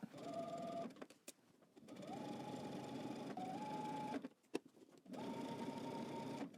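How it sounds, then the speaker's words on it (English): A domestic sewing machine edge stitching a band onto a tiered dress, running in three steady whirring bursts with short pauses and faint clicks between them, close and fairly quiet. "I'm just going to edge stitch all the way up"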